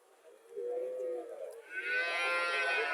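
A cow moos at a cattle market selling Jersey and Haryana dairy cows, one drawn-out low call that swells and rises in pitch over a few seconds, fairly close and heard alone.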